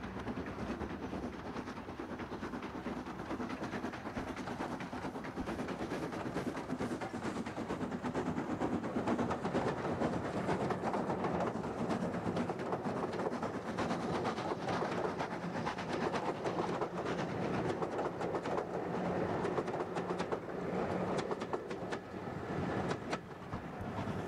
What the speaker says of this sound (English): Southern Railways Class S5 number 841, which spent much of its early life on parcel and freight trains out of Waterloo, sweeps around the long curves of the forest